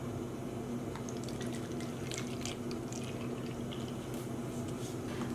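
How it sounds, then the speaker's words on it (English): Water runs into plastic bottles in a steady, close hiss with small splashes and gurgles over a constant low hum, no voices. "I'm going to go ahead and fill these bottles the rest of the way up with some water"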